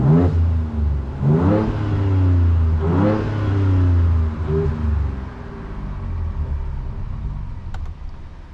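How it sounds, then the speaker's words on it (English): A 2023 Ford Ranger Raptor V6 pickup engine in Baja mode revs hard in place three times in quick succession, each rev climbing and falling with a throaty roar, then settles into a quieter, lingering rumble. "you start to get that throatiness, even when you're revving it on the spot"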